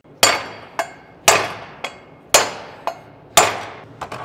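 A brass hammer strikes a steel bearing repeatedly during a Toyota Tacoma differential re-gear, heavy blows alternating with lighter taps, each with a bright ringing decay, close up and with no voices.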